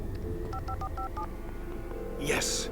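Rapid series of electronic keypad tones as a phone number is dialed in the Alan Wake video game, short evenly spaced beeps over low ambient game noise, followed by a player's excited exclamation.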